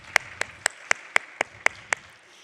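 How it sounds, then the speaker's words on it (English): One person claps slowly and evenly for musicians at a Sunday church service, about eight crisp, spaced hand claps at a steady rhythm, fairly close, over quiet room tone. "Can we give the musicians another round of applause?"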